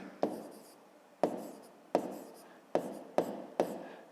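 A pen writes by hand on paper while a fifth-grade math exercise is worked out, giving six sharp taps followed by scratchy strokes at irregular intervals, close and fairly quiet.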